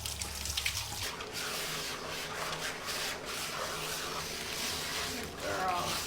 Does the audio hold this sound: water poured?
yes